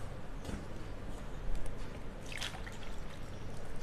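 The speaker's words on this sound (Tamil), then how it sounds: "நம்ம கொஞ்சம் கொஞ்சமாக தண்ணி சேர்த்து பிசைஞ்சிக்கலாம்" A small stream of water trickles and splashes into wheat flour in a bowl while samosa dough is being mixed, quiet and steady against a noisy background with no talk.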